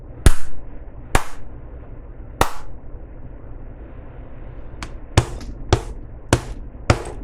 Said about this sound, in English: I'm going to do some claps.